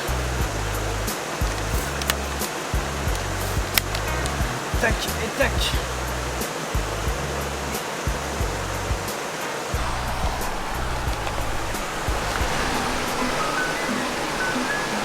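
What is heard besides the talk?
flowing stream water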